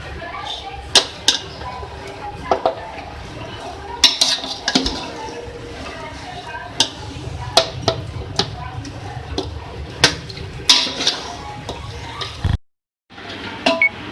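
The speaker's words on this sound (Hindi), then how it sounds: "अब इसको हम डिश में निकालेंगे।" Chicken pulao biryani scooped from a pot into a serving dish, with repeated sharp clinks and scrapes of a metal spoon against the vessel in an irregular rhythm, close by, a short silent gap near the end.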